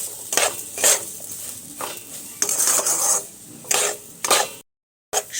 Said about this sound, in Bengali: আবারও আমি একটু নাড়াচাড়া করে ভেজে নেব